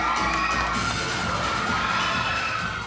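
A crowd cheers and shouts loudly and continuously as contestants take the stage at an event on Camiguin island, with excited high-pitched voices filling the space.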